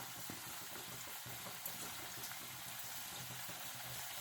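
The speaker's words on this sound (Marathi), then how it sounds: "आता आपण त्या तेलामध्ये एक एक गोळा सोडूया" Sweet potato gulab jamun balls bubble in hot oil, a steady soft frying hiss with faint popping and a small splash, heard alone without talk.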